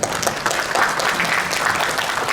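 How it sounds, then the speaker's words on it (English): An audience at an international conference's main stage applauds Dr. Sasaki with a warm, dense round of clapping that stays loud and even throughout. "please give a warm round of applause for Dr."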